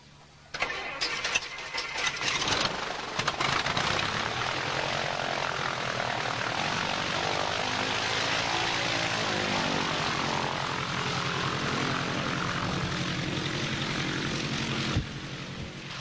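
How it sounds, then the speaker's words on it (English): A Stinson propeller airplane at Brodhead Airport cranks its engine, catches, and settles into a loud, steady close-up roar that runs on without pause. "Harold Frank is loading some children into a Stinson airplane that are going to be given a ride by pilot Jeff Fink."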